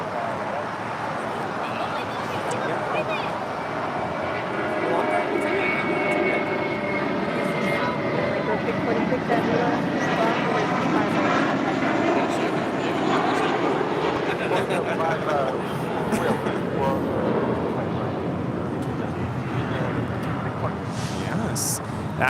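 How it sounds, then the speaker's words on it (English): A JetBlue Airways Airbus A320 departs on Flight 1268, a loud sustained jet roar with a broad rushing hiss that swells and holds over more than twenty seconds, heard from an airport spotting position. "That was JetBlue Airways Flight 1268 departing to Windsor Locks on an A320."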